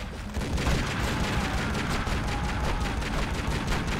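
Dense gunfire in Tomb Raider: Legend on GameCube, a continuous run of rapid loud shots across the whole stretch with no break and no talk over it.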